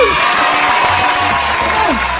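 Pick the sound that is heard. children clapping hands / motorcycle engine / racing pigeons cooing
children clapping hands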